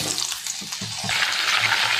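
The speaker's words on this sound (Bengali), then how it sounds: "ওই তেলেতে ঝোলের আলুগুলো ভেজে নেবো" Potatoes for a Bengali fish curry fry in hot oil, giving a steady close sizzle that swells louder in the second half, with a few soft stirring knocks underneath.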